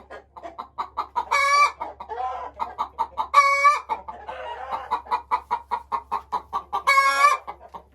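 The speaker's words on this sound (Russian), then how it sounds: "Курочка снесла яйцо." A Marans hen clucks repeatedly in rapid bursts after laying an egg, broken by three loud, rising squawks, close and clear against a quiet background.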